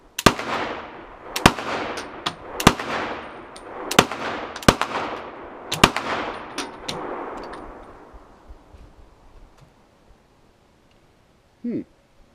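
Pistol shots ring out on a range, about eight sharp cracks at irregular intervals, each followed by a long ringing echo, with a brief murmur of speech near the end.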